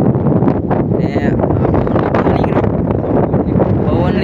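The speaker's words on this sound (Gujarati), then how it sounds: "પવન નીકળ્યો છે" Strong storm wind at sea off the Gujarat coast roars and buffets loudly and continuously, with a voice partly buried under the gusts.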